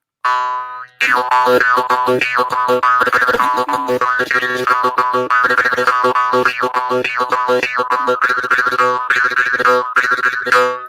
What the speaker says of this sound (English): another instrument which is called Moharsing